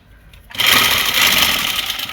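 Sewing machine running steadily, stitching lace onto a Pakistani salwar, starting abruptly after a brief quiet moment and continuing as a loud, even mechanical whir close by.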